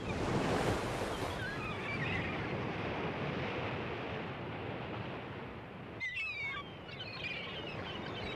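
Ocean surf rolls in where the Pacific Ocean meets Redwood Creek, a steady broad wash of waves with wind noise over the microphone and faint bird calls.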